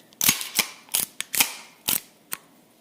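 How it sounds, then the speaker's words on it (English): Springfield 1911A1 pistol in .45 ACP being safety checked, with a series of about seven sharp metallic clacks and clicks of the slide and magazine, close and distinct, separated by brief quiet gaps. "This is the Springfield 1911A1 chambered in 45 ACP. Let me just safety check it. Empty mag."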